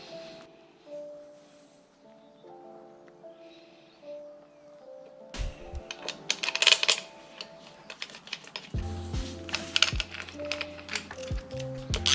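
7M fuel injectors being pushed into place, giving a few small sharp clicks and light metallic clinks up close, with a quiet tonal hum underneath before busier handling noise.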